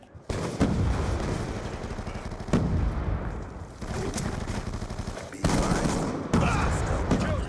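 Sniper rifle fire in Call of Duty Black Ops 2: sharp loud reports at irregular intervals, each followed by a rolling tail, over a busy backdrop of game noise.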